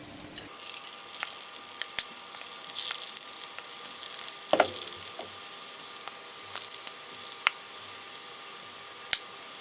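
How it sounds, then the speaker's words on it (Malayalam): Seasoned soya chunks fry in hot oil over high flame, giving a soft, steady sizzle with scattered pops and light stirring clicks, close and fairly quiet, without talk. "ഇത് ഓരോ ചങ്ക്സും ഇതിലേക്ക് ഇട്ട് ശരിക്കും ഒന്ന് പൊരിച്ചെടുക്കാം"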